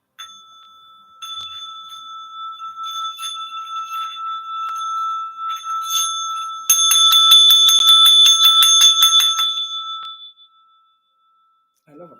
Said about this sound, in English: let's close it out with the gong